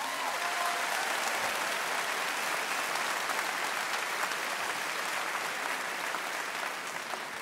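Steady applause from a sizable audience at a Celtic Colours festival concert in Cape Breton, dense and even throughout, with no voices standing out.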